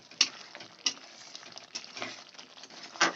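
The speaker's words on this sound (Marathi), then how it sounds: "कांदा टोमॅटो आपला भाजत आलेला आहे." Onion and tomato fry in a pan for malai paneer, with a busy patter of sizzling and scraping stir strokes that rise into louder bursts every half second or so. It is close and continuous, with no talking.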